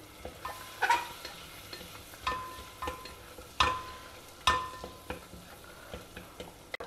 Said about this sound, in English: Now add the onions and fry them lightly.